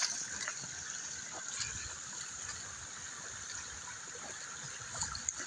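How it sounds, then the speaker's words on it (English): Rushing water during a rainstorm, a steady, moderately faint wash of flowing water running continuously with a few small splashes. "The water is rushing."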